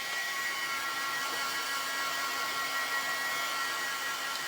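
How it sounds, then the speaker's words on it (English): A hair dryer blows steadily and close, a constant airy whir with no pauses. "if you got big pellets of water, you can actually move them around with the dryer"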